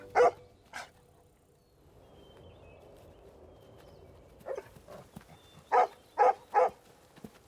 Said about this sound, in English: Good dog, Joseph. Go find him